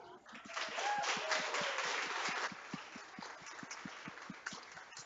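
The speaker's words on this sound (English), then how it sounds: "Give Wally a clap." A church audience at a Christmas celebration claps for Wally, a fairly faint, evenly paced run of claps heard from across the room.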